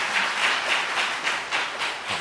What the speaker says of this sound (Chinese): 那我们在这边也拍手来欢迎君香姐